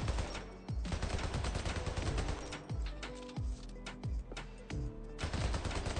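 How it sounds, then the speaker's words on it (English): A machine gun fires in the video game Hypercharge: Unboxed, loud rapid bursts of repeated shots with brief gaps between volleys and no speech. "Wow, this machine gun is all over the place."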